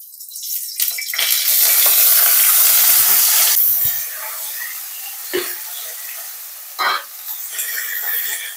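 Small shallots hit hot groundnut oil for Mecheri mutton kulambu with a loud, bright sizzle that swells and holds for a few seconds, then settles into a softer crackle broken by occasional stirring sounds.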